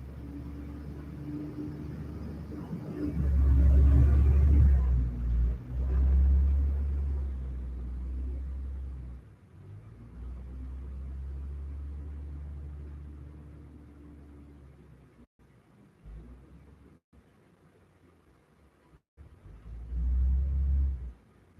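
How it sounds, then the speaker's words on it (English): A garbage truck rolls through a mobile home park, its engine rumbling up to a loud nearby swell, easing to a steady drone, then swelling again as it passes. "Okay, here comes the trash truck."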